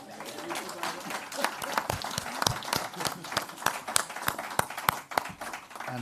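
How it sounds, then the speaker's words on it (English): Audience applause at a UNICEF initiative launch event, sharp irregular claps of varying loudness over a murmur of voices and crowd noise. "I think we can give them another round of applause."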